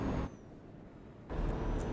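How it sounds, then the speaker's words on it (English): A heavy truck engine in the Euro Truck Simulator driving game roars loudly and steadily, dips to a quieter rumble for about a second, then surges back up close and loud. "This is a really loud truck"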